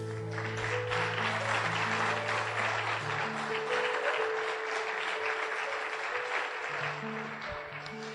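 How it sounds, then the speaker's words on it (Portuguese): A church congregation breaks into sustained applause during a sermon, a broad, dense clapping that fills the space evenly and holds strong for several seconds before easing slightly. "Você pode aplaudir a Deus por isso?"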